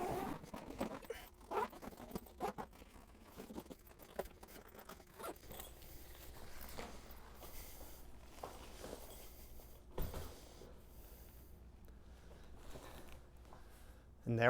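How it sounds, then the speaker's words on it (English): A zipper runs along a spare tire storage bag for a Fisker Ocean One electric SUV, with soft rustling and scraping handling noises, fairly quiet and close, across the whole stretch. "and then zip it up"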